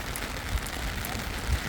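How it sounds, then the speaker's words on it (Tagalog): A dense, steady wash of heavy rain in the Czech Republic hisses and patters without pause, close and fairly loud, with faint low thumps underneath. "Ang lakas ng ulan"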